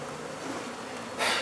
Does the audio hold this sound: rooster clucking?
no